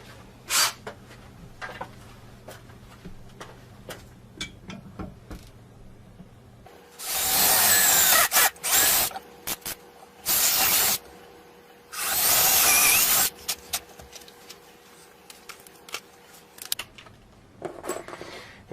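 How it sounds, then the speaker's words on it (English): A power drill bores pilot holes into a wall stud for mounting a pull-up bar, two loud whirring bursts of a few seconds each separated by a short pause, with quieter handling clicks and scraping before and after. "So let's drill our pilot holes."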